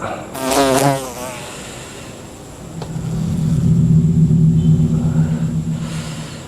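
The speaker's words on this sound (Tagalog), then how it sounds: "ay, may bubuyog" A bee buzzes close by in a cemetery, rising in a sustained low drone that swells and lingers after a brief higher burst at the start.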